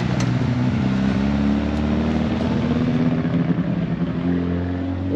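Mitsubishi Eclipse engine running rich: a loud, rough, steady exhaust drone with a lumpy low rumble as the car passes close by, no talking.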